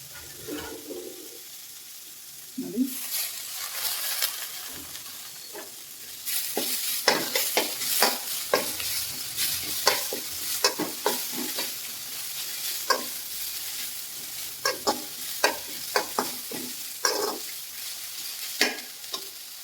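Leaf sambar ingredients frying in a pan with curry leaves, stirred steadily: a continuous sizzle under repeated scraping strokes of the spoon, close and fairly loud, with no talking.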